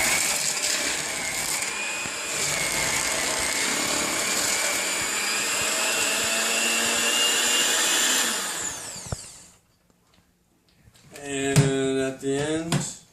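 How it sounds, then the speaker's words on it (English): An electric hand mixer on low speed whirs steadily while blending fruit pizza topping, a continuous loud motor hum for about eight seconds that cuts off, followed by silence and a voice speaking near the end. "And then we got our lovely mixer. just want to keep mixing about low until it comes about spreadable."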